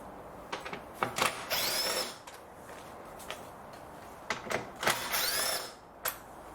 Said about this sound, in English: So I'm going to start by removing these screws. These are Torx screws.